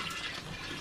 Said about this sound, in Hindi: ये देखिए पानी कैसे इसमें डाला जाता था